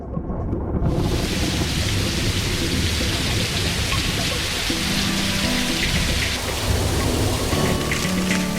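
Steady, loud rainstorm pouring down with heavy rumbling thunder, a dense continuous wash of falling rain that fills the whole stretch after a quiet first second.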